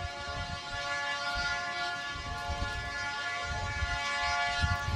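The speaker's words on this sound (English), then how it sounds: "Both the locomotive and the passenger car are equipped with cogs, along with a separate set of brakes" A cog railway train climbing a mountain toward the summit, with steady mechanical rumbling and a sustained tonal whine or whistle running throughout, loud and close.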